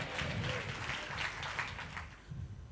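A congregation claps together during a Tamil church service, the applause coming in soft, scattered bursts that sound fairly distant and faint.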